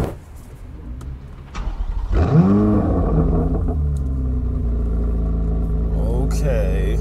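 A C8 Corvette Z06 engine with aftermarket exhaust cranks and fires with a rising blip, then settles into a deep, throaty idle rumble up close, with a voice speaking faintly early on.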